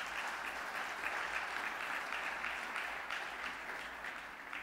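A church congregation applauds in praise during a Saturday service, a dense, sustained clapping that fills the room evenly and fades slightly toward the end.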